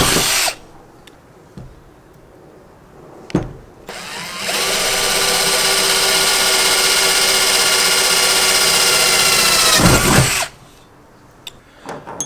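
Power drill boring holes in a truck bed rail while fitting a Diamondback bed cover rack for a rooftop tent, one long continuous whine of about six seconds up close, with a couple of short bursts before it.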